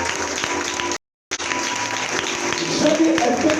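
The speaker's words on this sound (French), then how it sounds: "Est-ce que tu peux acclamer très fort pour Dieu?" A church congregation at a worship conference cheers and applauds loudly for God, a dense wall of clapping and shouting that breaks off briefly, then returns and swells with voices rising over it.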